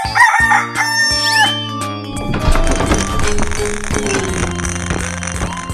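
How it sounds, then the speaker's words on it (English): Cartoon rooster crowing amid a busy animated animal scene, a bright stretched call near the start over bouncy music and sound effects that continue loud throughout. "Chicken."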